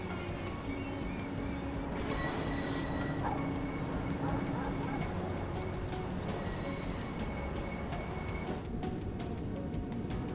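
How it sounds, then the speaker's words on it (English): A passenger train in Train Sim World pulls into a station and releases its doors: a steady mechanical hum and rumble with tonal whines, chimes and a hiss, continuous and moderately loud. "we arrive in our first station, door released and waiting for the passengers to get on board"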